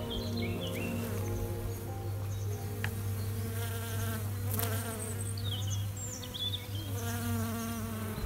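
Honey bees buzz steadily at a hive, a dense drone of many wings close by with individual bees passing near, joined by faint bird chirps in the background.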